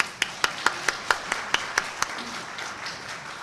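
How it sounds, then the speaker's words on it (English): Slow, evenly spaced claps, about ten in a row and fairly loud, fading into softer scattered clapping from an audience at a business chamber event. "Ladies and gentlemen, let's applaud that."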